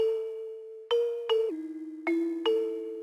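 A synthesized bell-like tone with EQ applied, in FL Studio, plays a sequence of sustained notes with sharp attacks and shimmering decays, clear and close with no voices.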